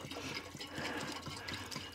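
Water poured from a 20-litre jug into a Volvo G88 truck, a continuous faint splashing and trickling with gurgling pulses, fairly close and heard alone.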